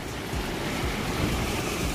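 Sudden river flood at a bridge on the Camún river, a dense, roaring rush of water heard loud and close, with continuous broadband turbulence and no talk.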